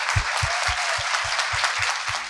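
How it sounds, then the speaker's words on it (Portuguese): An audience applauding a sign language interpreter at a live literary talk event, loud sustained clapping from a crowd with a rhythmic beat of synchronized claps running through it. "A plateia aplaude intensamente o intérprete de Libras."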